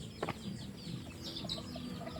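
Fighting cocks on a farm give faint, scattered clucks over low background noise, with one sharper call near the start.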